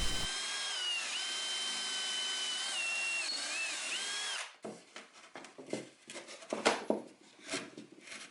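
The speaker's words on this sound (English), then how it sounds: "Here I am using a really dull drill bit to drill out a hole" A power drill with a dull bit whines steadily for several seconds, then gives way to scraping, rattling bursts as the bit grinds and clears through wood, drilling a hole for a table leg carriage bolt.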